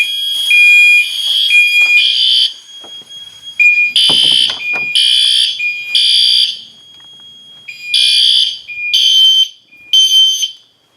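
A loud, piercing Gentex Commander 3 electronic fire alarm horn blares in repeated bursts with short gaps during a system test, harsh and close, with a brief rustle in between.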